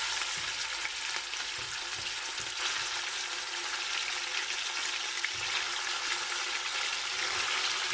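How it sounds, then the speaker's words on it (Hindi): Mutton sizzles and fries loudly in a hot pan with oil and ginger garlic paste, a dense steady crackle with occasional stirring bumps and no voices. "और अब हम इसके अंदर डालते हैं मटन।"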